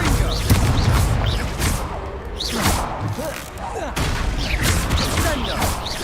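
Confringo fire spell blasts during a dueling tournament in the Hogwarts Legacy video game, with dense rapid booms and crackling bursts layered over swooshing magical effects and music, continuous and loud throughout.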